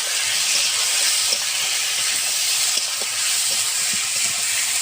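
Turmeric powder and salt fry in hot oil in a pan for a thin fish curry, making a loud, dense, continuous sizzle with faint stirring taps underneath and no voices.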